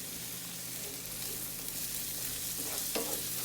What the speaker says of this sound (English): I've had the corn roasting here, frying, however you want to put it, for about 5 minutes.